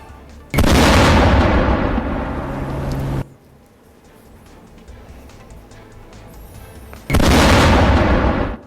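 A missile strike explodes in Iran during the Israel-Iran war. Two loud, roaring blasts each rumble on for a few seconds, with a quieter stretch between them.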